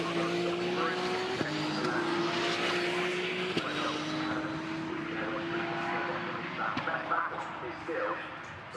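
Porsche Carrera Cup race cars scream around the Snetterton circuit, a sustained high engine whine with gear-change steps at intervals, loud and near, settling as the pack moves on, with a commentator talking over it.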